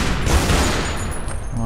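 Rapid gunfire from the PC game Tomb Raider: The Dagger of Xian, a dense, continuous burst of shots filling the whole moment, loud and close.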